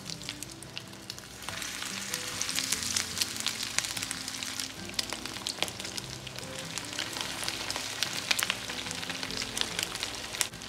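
Crab cakes for sliders sizzle in hot oil in a pan, a dense, steady frying crackle with scattered pops that holds up close and fairly loud throughout, with no voices.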